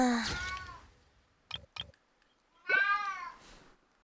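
Suki, a pet cat, gives two clear meows, one at the start and a longer one near the end, with a pair of soft clicks in the quiet between them.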